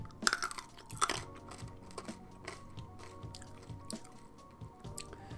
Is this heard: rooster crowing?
no